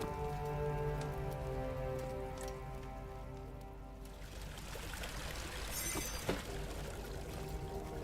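Water in the horror game Amnesia: The Dark Descent pours and splashes steadily like rain on a surface, a dense continuous wash. Low hums run under it at first and fade partway through.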